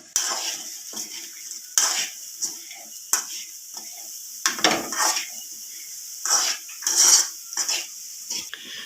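Chopped cabbage and dried prawns for a Kerala thoran being mixed in a pan, a spatula scraping and tossing in irregular bursts with a light sizzle, close, between pauses.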